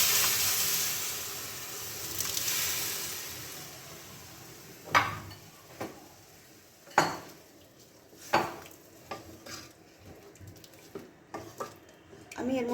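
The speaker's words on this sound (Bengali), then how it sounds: "এবার সেদ্ধ করা ডালটা আমি এর মধ্যে দিয়ে দেবো।" Boiled masoor dal goes into a frying pan of cooked bottle gourd with a soft hissing wash. Several sharp metallic clinks and scrapes of a spoon against the pan follow, spaced irregularly.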